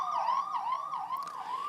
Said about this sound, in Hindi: गाड़ियों के सायरन सुनाई दिए।